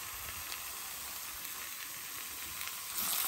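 Yellow capsicum and garlic sizzle in a HexClad frying pan, a steady close hiss of frying that swells slightly louder at the end, with no talking.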